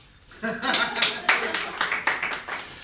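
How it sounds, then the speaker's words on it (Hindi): Clapping at a Hindi poetry gathering, sharp, evenly spaced claps in a steady beat after a short voice at the start, fairly close and loud. "और अगले जोड़े पर फिर आपकी तालियां उठनी चाहिए"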